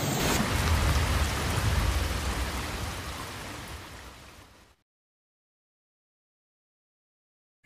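Steady rain falls in a dense, loud hiss that slowly fades over several seconds, then cuts to silence.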